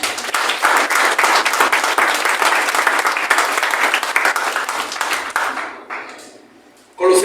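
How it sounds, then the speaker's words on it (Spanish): A church congregation applauds for the Lord in a loud, dense burst of clapping that holds steady for several seconds, then thins out and fades to near silence before a brief sharp noise returns at the end. "Dale un aplauso al Señor."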